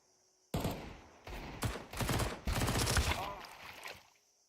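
Pistol gunfire in a Counter-Strike pro match, heard as a sudden loud volley of rapid shots in several dense bursts over about three seconds, alone without talk.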